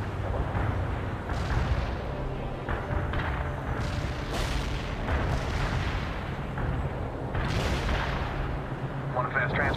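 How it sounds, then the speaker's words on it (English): Incoming artillery fire in World in Conflict, a Soviet assault battle in the town of Pine Valley, with repeated heavy booms and bursts scattered through a constant din of combat and short spoken unit callouts. "Incoming fire!"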